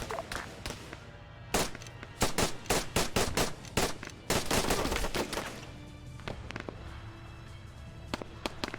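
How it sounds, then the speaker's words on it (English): Machine-gun fire from an armored vehicle in the Arma 3 video game, heard as loud bursts of rapid, cracking shots with short gaps, blending into a sustained rattle of gunfire mid-clip before thinning to scattered reports. "We're hearing the Marshal starting to fire at units around."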